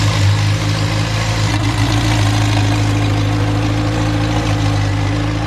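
A McLaren 720S fitted with an Armytrix exhaust idles with its valves closed, giving a steady, deep, even rumble that holds close and unbroken throughout, with no voices.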